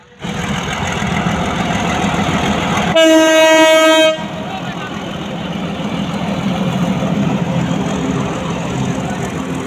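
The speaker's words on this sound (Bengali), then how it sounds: "নারায়ণগঞ্জ থেকে আগত লোকাল ট্রেন কমলাপুরের উদ্দেশ্যে যাচ্ছে" A local train running from Narayanganj to Kamalapur rumbles loudly past close by, with a strong horn blast of about a second early on over the steady roll of wheels and engine.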